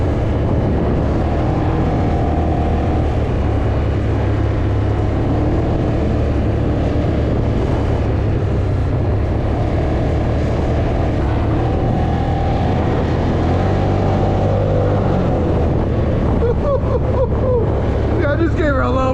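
A 2026 Can-Am 850 XT MAX with stock XT shocks, its engine droning steadily and loudly under wind rush while riding, the note rising briefly with throttle; someone talks over it.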